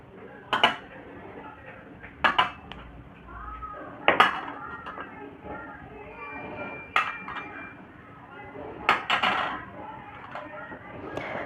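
Metal khan pots for Sankranti puja clink and clatter as they are picked up and set down, several sharp close metallic knocks spaced a second or two apart, with someone talking quietly between them.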